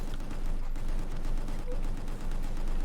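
Sustained rapid gunfire from a video game, the shooter Gungrave G.O.R.E, blasting at glowing crates, loud and continuous with dense overlapping shots and no break across the whole stretch.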